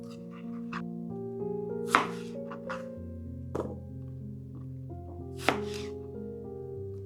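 Small onions being cut into large pieces on a board, a few sharp knife chops spaced unevenly over a quiet background with a steady low hum.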